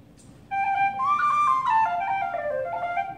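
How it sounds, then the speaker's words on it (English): A penny whistle plays the tune Farewell to Ireland, a bright, lilting melody alone, notes sliding and ornamented, clear and close. "It's a penny whistle"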